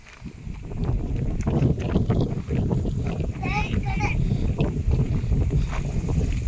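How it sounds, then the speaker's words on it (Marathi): Strong wind gusting outdoors in a home garden among guava and chikoo trees, a loud low rumbling buffet against the microphone throughout, with a child and an adult talking over it. "वारं सुटलंय खूपच"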